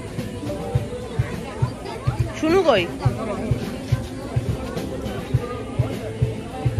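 Busy crowd babble surrounds a boat ride, a steady hubbub of many overlapping voices with scattered knocks and clatter and a few nearer speakers talking over the din.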